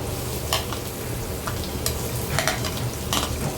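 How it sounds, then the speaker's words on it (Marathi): Finely chopped onion fries in hot oil with asafoetida and curry leaves, giving a loud, dense, continuous sizzle close by, broken by repeated spatula scrapes and stirring strokes. "कांदा व्यवस्थित परतून घ्यायचा आहे आपल्याला"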